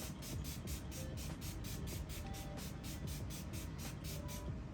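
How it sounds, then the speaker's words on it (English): Up All Night makeup setting spray mists out in a long run of quick, evenly spaced hissing pumps, about a dozen soft sprays in steady rhythm over a faint background hum. "I'm gonna be using this Up All Night setting spray."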